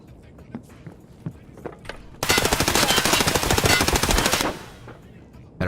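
Automatic gunfire rattles in a rapid, loud sustained burst in a shooter video game with Scavs, set between scattered quiet footsteps and thuds before and after.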